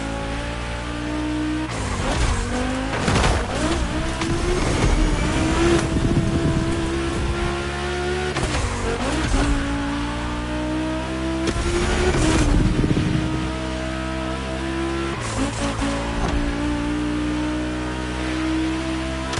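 Race cars in The Crew Motorfest, including an upgraded Porsche 965 Turbo of over 400 horsepower and a Volkswagen, engines revving loudly through repeated gear changes with tire squeal and skidding bursts, no talk.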